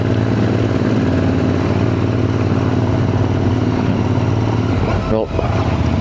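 A motorcycle engine labours uphill in a tall gear around Cork, a steady loud drone with one brief dip near the end, and a voice talking over it.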